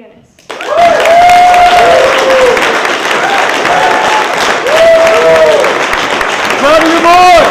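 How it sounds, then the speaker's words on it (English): An audience of young conservatives in New York applauds Gavin McInnes, sustained clapping with cheers and whoops layered over it, loud and continuous after a brief quiet start. "Everyone, give a round of applause for Gavin McInnes."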